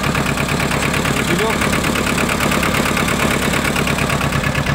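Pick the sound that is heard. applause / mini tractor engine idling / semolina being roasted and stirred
mini tractor engine idling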